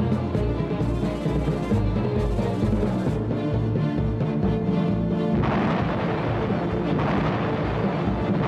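Heavy gunfire from a firing squad booms out in rough volleys over a dense, rumbling background, loud and reverberant.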